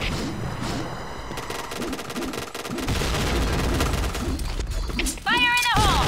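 Gunfire from an AUG A3 rifle in the PointBlank video game, loud bursts of rapid shots and impacts running throughout, with game effects and voices mixed in.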